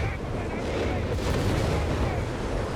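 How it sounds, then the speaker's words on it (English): A Nebelwerfer rocket artillery barrage in Company of Heroes 3 rumbles as a dense, continuous roar of launches and distant blasts, a battle wash that stays loud throughout. "Nebelwerfer barrage."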